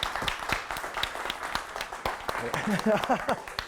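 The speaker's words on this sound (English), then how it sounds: "Big round of applause for this guy" Round of applause for a man called up on a show, sparse clapping throughout with a voice talking over it, speech growing busier near the end.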